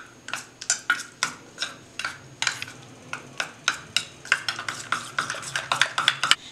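A spoon scrapes and clicks repeatedly against a bowl while rice flour face pack is stirred together with curd, a quick uneven run of sharp close taps with no voices.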